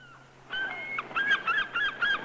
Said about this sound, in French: c'est une carte postale sonore de ma cousine la mouette